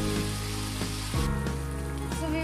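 Gojar fish curry simmering on medium heat in a Bengali kitchen gives a steady, close sizzle and bubbling hiss, with a sustained tonal hum running underneath.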